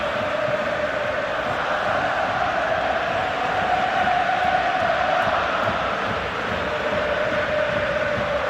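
A stadium crowd roars in PES 2021 during a Barcelona versus Atlético Madrid Champions League quarter-final, a loud, continuous wash of cheering that holds steady throughout.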